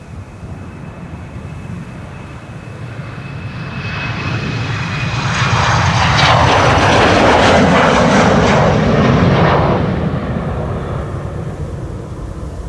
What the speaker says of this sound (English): Embraer on the way, making room for the Chinese A350